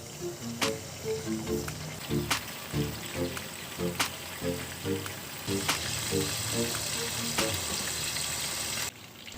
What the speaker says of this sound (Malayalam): ഇപ്പോൾ ഒരു സൈഡ് നന്നായിട്ട് ഫ്രൈ ആയി വന്നിട്ടുണ്ട്